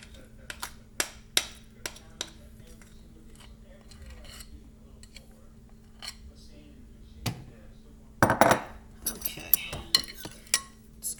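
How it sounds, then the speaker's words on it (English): Spoons scraping sticky, pasty no-bake cookie dough protein bar mixture, giving a scattered series of close clicks, taps and scrapes with brief gaps between them and a louder cluster of clatter toward the end. "Use the other spoon to get the rest off."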